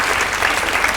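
Steady applause from a small audience, continuous clapping without breaks throughout, fairly loud and close, with no talk over it.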